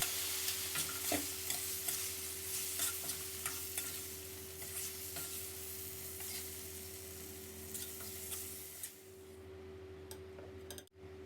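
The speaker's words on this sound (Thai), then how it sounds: "แล้วก็ให้เราผัดคลุกเคล้าเข้ากันอีกเล็กน้อยนะครับ" Tofu with sliced red chili is stir-fried in a pan, a soft continuous sizzle under repeated scrapes and taps of a spatula against the pan, with a faint steady hum beneath that fades near the end.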